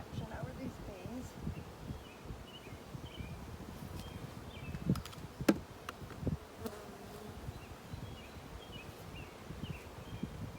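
Honeybees hum softly during a spring hive inspection, a steady low buzz of many insects with occasional louder individual passes close by, alongside faint rustling as frames are handled.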